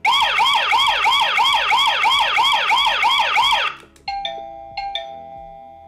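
A Cozoney connected doorbell alarm siren goes off loudly: a rapid, repeating wailing electronic whoop for several seconds, then abrupt electronic beeps and chime tones once the siren stops.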